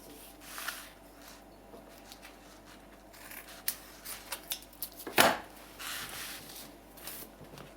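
Scissors snipping paper while a recycled scrapbook journal is assembled, several short crisp cuts clustered near the middle, moderately close in a quiet room.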